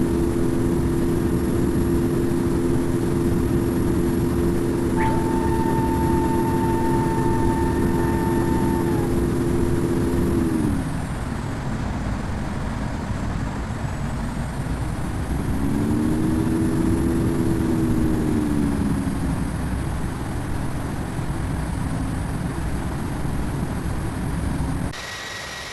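An Airbus A321's jet engines in the Infinite Flight game, taking off from runway 28 left at San Francisco, hold a steady droning whine. The pitch sags, then climbs again as thrust changes, sounding continuous and fairly loud.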